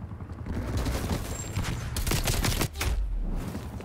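AK rifle fire in the shooter Call of Duty Black Ops Cold War: rapid automatic bursts, loud and close, that rattle almost without a break and sharpen into distinct cracks near the end.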